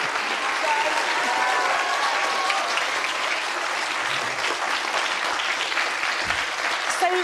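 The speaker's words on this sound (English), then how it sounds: "a round of applause for our volunteers" An audience at a lecture on life beyond Earth applauds volunteers, sustained dense clapping at an even level for several seconds, with some crowd murmur mixed in.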